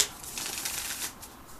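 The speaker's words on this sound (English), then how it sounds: "Just got some flippy cards here." A deck of tarot-style flippy cards is shuffled, giving a brief, quiet, close riffling and flutter for about a second and a half.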